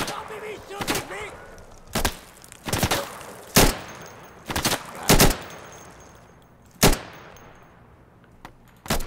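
Gunfire in the video game Insurgency: several sharp, loud bursts of shots with pauses between them, each echoing briefly, under occasional low background noise.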